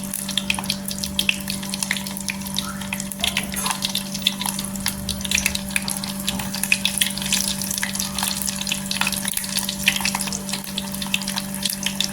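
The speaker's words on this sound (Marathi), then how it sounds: "अशी गरम झाली पाहिजे करकरवून अशी लसणीची फोडणी बसली पाहिजे" Garlic tempering sizzles in hot oil in a Konkani-style dried fish curry, a loud, continuous crackle with dense popping spread evenly throughout, accompanied by a steady low hum.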